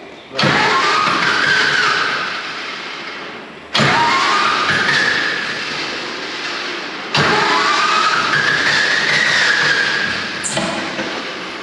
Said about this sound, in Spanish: ¿La moto no molesta, Coque?